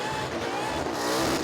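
A well-known burnout car at Perth Motorplex screams at high revs with tyres spinning fast, a loud, sustained engine howl mixed with tyre roar, close and unbroken.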